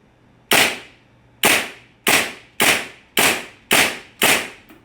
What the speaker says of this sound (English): we're gonna take a few rounds at the target and test the SMC-9 for accuracy